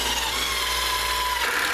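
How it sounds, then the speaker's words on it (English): A continuous whining power drill pre-drilling holes into wood up close, steady and loud for the whole moment, its pitch shifting slightly near the end. "I'm going to pre-drill out some holes, put some lag bolts and these flat washers."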